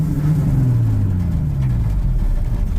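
An old manual truck engine sputters at low revs with a steady, slightly falling drone, running rough throughout as if about to stall.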